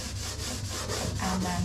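A sanding sponge loaded with hemp oil buffs over a wooden dresser in quiet, repeated rubbing strokes with a soft, even rhythm, while a voice speaks briefly over it.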